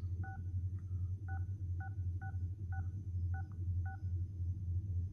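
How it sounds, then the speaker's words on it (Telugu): Touch-tone keypad tones of a phone number being dialled, eight short evenly spaced beeps over a steady low hum, with no voices. "ఈ నెంబర్కి అయితే డయల్ చేసి చూద్దాం"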